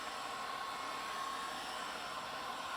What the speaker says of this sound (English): Use a hair dryer to dry it a little bit here.